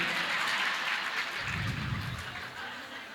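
Audience clapping during a Jain monk's sermon in a temple, a broad wash of applause with some chuckling, steady at first and then tapering off slightly.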